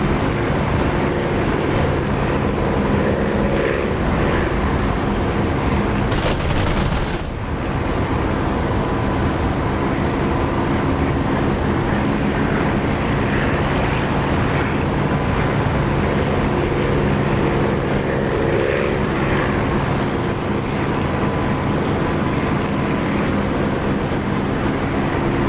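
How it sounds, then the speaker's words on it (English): Aircraft engine in the DCS flight simulator game with the canopy open, a loud, steady, broadband roar and rumble with wind rush that holds for about 25 seconds with only a brief dip, no voices. "I like the sound of the engine with the canopy open."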